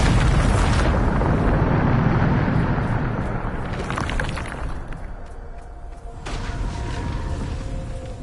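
A heavy Bombarda spell explosion from the video game Hogwarts Legacy erupts in a loud, rumbling boom that rolls on with crackling debris, fades slightly, then swells again with a second blast near the end.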